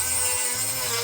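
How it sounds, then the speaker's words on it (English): A Dremel rotary tool cuts through the metal firewall of a Mazda Miata while a cold air intake is installed, giving a continuous close, high-pitched grinding whine with a steady hiss and no pauses. "I ended up using the Dremel tool to finish cutting out the left-hand side"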